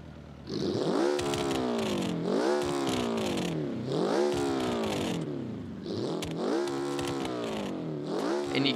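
A Hirochi car engine in BeamNG revved hard with no exhaust fitted, loud raw rasping rises and falls repeated in steady cycles, each pull sweeping up then dropping back, no talking.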